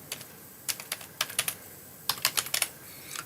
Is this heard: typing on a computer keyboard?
yes